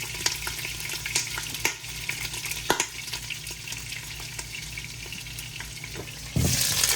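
Potatoes sizzle and crackle steadily in hot grease in a pan, with small pops and occasional scraping of a utensil nearby.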